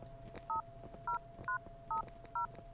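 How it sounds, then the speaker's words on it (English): Phone keypad in a PS1-style Christmas horror ski game, five short electronic dial tones spaced roughly half a second apart over a steady low hum and faint background noise. "I take out my phone."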